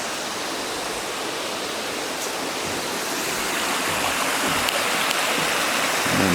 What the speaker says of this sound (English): The camera can't pick up the waterfall from here, you can hear it but you can't really see it.